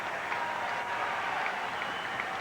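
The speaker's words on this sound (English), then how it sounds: "There's a little bit of clapping" Light, scattered clapping from a thin baseball crowd inside the Houston Astrodome during a 1993 Mets–Astros game, a steady low patter of applause with murmuring crowd ambience and no standout bursts.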